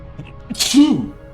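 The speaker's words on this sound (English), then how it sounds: "World's longest sneeze wind-up." A single sneeze bursts out after a brief drawn-in breath, close and fairly loud, with a short nasal groan trailing off.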